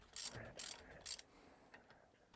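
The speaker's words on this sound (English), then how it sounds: "Ratchet." A ratchet wrench clicking in a few short bursts during a Mercruiser marine engine teardown, quiet and close with faint room noise between strokes.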